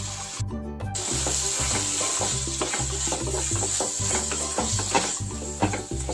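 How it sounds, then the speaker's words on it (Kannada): Cooked bottle gourd stirred into a sizzling spiced curry in a pan, a steady scraping and swishing with a constant frying hiss and rhythmic low thumps, close and continuous, with no voice. "ಈಗ ಇದಕ್ಕೆ ಸೋರೆಕಾಯಿ ಏನ್ ಬೇಯಿಸಿ ಇಟ್ಕೊಂಡಿದ್ವಲ್ಲ ಅದನ್ನ ಮಿಕ್ಸ್ ಮಾಡೋನು"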